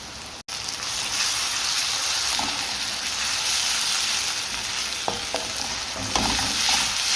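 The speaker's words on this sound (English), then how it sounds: "Add the chili flakes, ginger and garlic paste" Chili flakes, ginger and garlic paste sizzle in a hot pan for a balti, a dense, loud, steady hiss of frying broken by a few clinks and stirring scrapes, with no talking.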